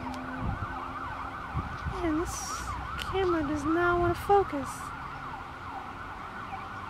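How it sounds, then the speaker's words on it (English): Emergency vehicle sirens wail past outdoors near an apple tree in a garden, rising and falling at moderate distance over steady background noise, while someone talks briefly over them. "Now here come the sirens."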